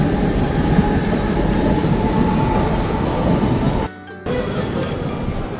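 A metro train at Ghatkopar rumbles loudly and steadily nearby, a constant roar with a brief dip in the noise partway through before it resumes.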